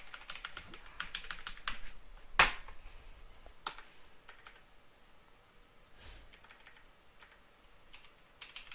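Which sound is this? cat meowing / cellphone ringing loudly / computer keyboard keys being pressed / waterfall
computer keyboard keys being pressed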